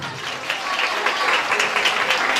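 An audience claps steadily at a Mother's Day event, a dense patter of many hands applauding together at close range.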